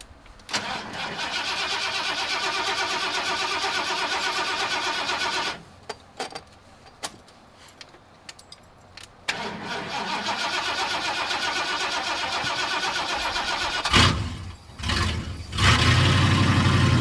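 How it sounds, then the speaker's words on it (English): A car engine cranks and starts after a fuel tank repair, then runs with a fairly quiet, steady idle, drops out briefly, and restarts, heard up close with a couple of brief revs. "So weird how quiet that motor sounds"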